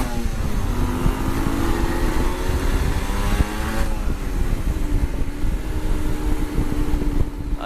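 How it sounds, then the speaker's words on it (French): A 125cc motorcycle ridden on a road, its engine droning loud and close with shifting revs and steady wind rush, no voices. "Il se moque du bruit de ma moto,"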